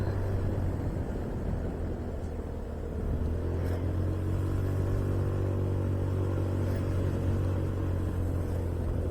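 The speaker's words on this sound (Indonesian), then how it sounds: "Kerja keras nih motor." A steady, low engine drone holds throughout, a motorcycle laboring at constant revs on a mountain route near Puncak Bogor, close and continuous with no voices.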